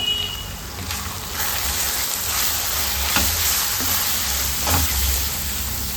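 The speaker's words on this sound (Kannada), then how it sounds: "ಮಸಾಲೆ ಎಲ್ಲ ಎಣ್ಣೆಯಲ್ಲಿ ಈ ಥರ ಫ್ರೈ ಮಾಡ್ಕೋಬೇಕು" Spice masala of coriander powder and Kashmiri chilli fries in oil for rajma curry, a loud, constant sizzle with occasional stirring knocks and scrapes, and no one talking.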